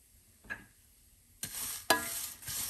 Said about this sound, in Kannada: ಈಗ ಕರ್ಬೇವಿನ ಸೊಪ್ಪು ಸೇರಿಸ್ತಾ ಇದ್ದೀನಿ.